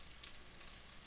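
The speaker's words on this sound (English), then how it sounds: "Got the butter sizzling," Butter sizzles in a pan for vegan stuffing, a steady soft close hiss of frying fat that continues evenly throughout, with no talking.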